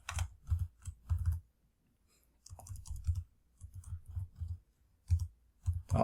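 Bursts of key clicks on a computer keyboard as a web address is typed into a Google Workspace admin console, quick rhythmic runs of taps separated by short pauses, close and fairly loud with no talking.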